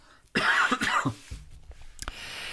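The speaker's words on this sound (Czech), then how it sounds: "teď si odkašlu" A close, hacking cough in several quick bursts, then a quieter pause and one more short cough.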